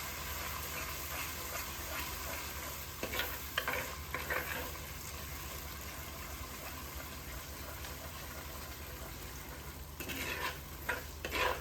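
Ginger garlic paste frying in a pan for a fish curry makes a faint, steady sizzle over a low background hum, with occasional stirring scrapes clustering near the start and end.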